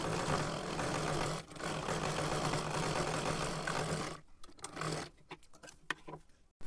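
A sewing machine stitching the top edge of a kurti whirs in a loud continuous run for about four seconds, then stops, leaving scattered clicks and short mechanical taps.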